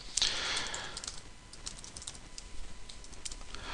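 Fingers type on a computer keyboard while entering values into form fields, giving a quiet, close run of rapid key clicks with a few brief pauses.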